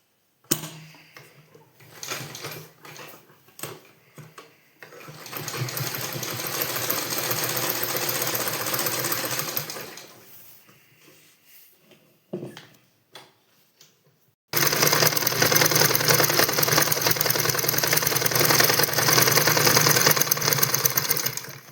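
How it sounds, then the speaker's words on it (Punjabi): A sewing machine stitches a shirt seam in bursts: short stuttering runs, a longer steady whirring stretch, a pause, then a loud continuous run at full speed close by. "ਆਪਾਂ ਡਬਲ ਸਿਲਾਈ ਕਰਾਂਗੇ ਇਵੇਂ ਹੀ"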